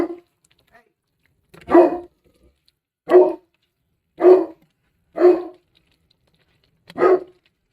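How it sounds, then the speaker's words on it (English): A dog barks indoors, six loud separate barks spaced about a second apart, with no talk. "Don't bark over here."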